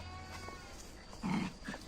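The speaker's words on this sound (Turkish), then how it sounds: "Paşa Bey ve koyunlarla tanışıyor." A short sheep bleat rises near the end over quiet outdoor background, with a fainter second bleat just after, as a dog meets the flock.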